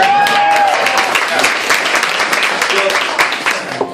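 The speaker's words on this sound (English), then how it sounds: "So give Shelly a round of applause." Audience applause, a dense, loud burst of many hands clapping steadily and close, with no talk over it.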